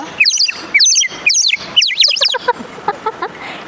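Bursts of chirpy, gurgling warbles from a water-filled bird whistle, blown in quick repeated puffs, loud and close, trailing off into softer twitters.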